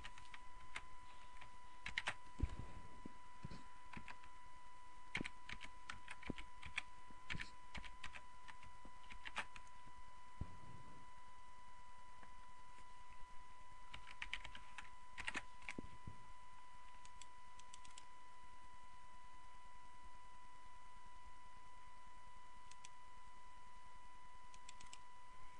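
Quick, irregular clicking of keys on a computer keyboard while someone edits a config file, quiet and close, in bursts with short pauses, over a steady electronic hum and no speech.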